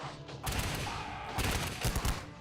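Musket volleys from an American Revolution battle reenactment, with dense overlapping gunshots cracking in rapid, irregular bursts that swell into a loud, continuous barrage.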